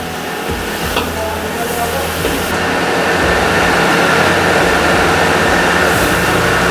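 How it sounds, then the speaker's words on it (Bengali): Tomato sauce stirred into fish with green pepper in a busy Kolkata Chinatown restaurant kitchen, a loud continuous roar of burners and frying hiss with scraping ladle strokes throughout. "এক হাতা টমেটো সস গেল এর মধ্যে, দিয়ে খুব ভালো করে নেড়ে মেশাতে হবে।"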